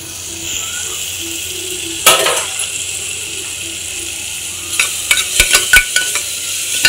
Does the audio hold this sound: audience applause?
no